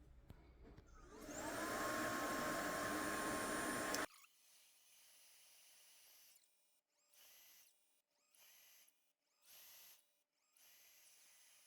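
Roborock F25 Ultra wet-dry vacuum starts its high-temperature self-cleaning with a loud, steady whirring motor and a rising whine for a few seconds, then cuts off into quieter intermittent bursts of pumping and whirring separated by pauses.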